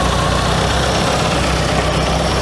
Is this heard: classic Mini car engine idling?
yes